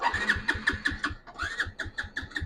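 A small engine with no fuel in the tank is cranked over and over, giving a close, rapid run of chugging pulses that never catch and settle into a steady idle.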